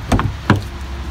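Two sharp knocks on a thin, lightweight RV door in a 2018 Forest River Sandpiper 383RBLOK fifth wheel, a quick double rap followed by a single rap, close and hollow-sounding with no talk.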